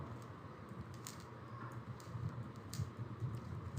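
Soft, quick keystrokes on a computer keyboard entering text into a Microsoft Word document, faint and steady with no talking.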